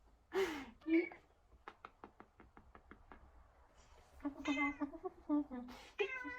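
A pet kitten named Cheese meows several times up close, interspersed with a fast run of light tapping knocks, then a cluster of rising meows and cries at the end.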